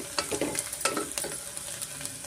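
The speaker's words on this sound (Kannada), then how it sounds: "ಈರುಳ್ಳಿ ಫ್ರೈ ಆಗೋದಕ್ಕೆ ನೋಡಿ" Onions fry in a pan with a little salt, a close, steady sizzle broken by repeated scraping stirs of a spatula against the pan.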